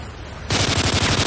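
A sentry gun in Modern Warfare 3 survival mode on the Dome map opens fire after a brief quiet moment, unleashing a loud, rapid automatic burst that continues to the end.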